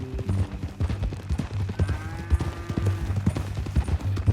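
A horse's hooves clip-clop at a steady gait in the Red Dead Redemption 2 game, close and fairly loud, with a brief neigh and creaking tack in the middle.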